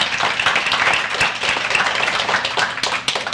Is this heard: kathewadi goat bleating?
no